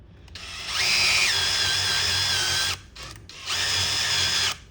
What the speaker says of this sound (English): Just drill them out.